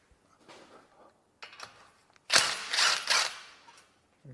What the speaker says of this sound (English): we're going to remove this caliper bracket, which is held on by these two bolts here.